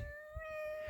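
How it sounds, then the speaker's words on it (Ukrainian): A single drawn-out meow from a white cat, steady and tonal, heard close by against quiet background rumble. "Да, Це кіт,"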